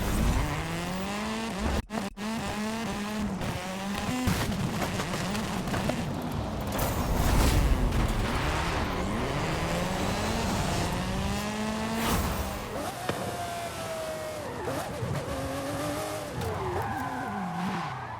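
Video game car chase with a Porsche and race cars: loud, continuous engine revving with rising and falling pitch as gears shift, tires squealing and skidding, and a brief dropout near the start, all without speech.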